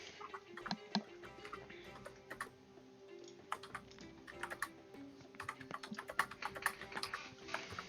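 Computer keyboard typing, close and steady, with rapid irregular key clicks and a few sharper taps, under a low constant background hum without talk.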